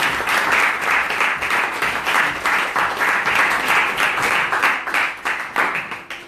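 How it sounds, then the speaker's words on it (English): A gathered audience at a Sunday talk at ISKCON Newcastle gives a warm round of applause: dense, lively clapping from many people, close and steady, tapering slightly at the end. "So I'd like to give Sharadia Rasa a warm round of applause"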